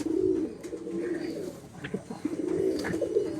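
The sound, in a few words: Madrasi pigeons cooing in a loft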